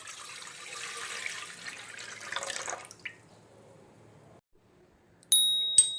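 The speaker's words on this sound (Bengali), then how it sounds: "একটা ইডলি স্ট্যান্ড আমি নিয়ে নিয়েছি। প্রথমে এর মধ্যে আমি দিয়ে দেবো একটু জল।" Water pours into a metal idli stand in a soft, rushing splash for a few seconds before stopping. A couple of faint metallic clinks follow after a quiet pause.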